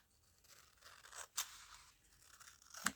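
Scissors snip through a piece of material at close range, quiet and crisp. Two or three brief cuts rise above a faint rustling background.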